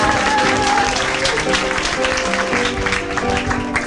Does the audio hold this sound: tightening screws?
no